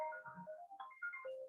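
A telephone rings with a melodic electronic ringtone, a short tuneful phrase of shifting tones heard close and alone.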